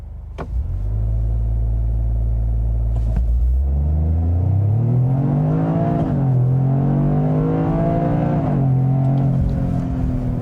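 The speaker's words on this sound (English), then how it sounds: "I'm going to turn off the stability control, and then you should just be able to brake torque it and it should launch" A Toyota GR Corolla with an automatic transmission brake-torques and launches hard. The close engine rumble climbs steadily in pitch as it revs, eases briefly at a gear change, then pulls strongly again.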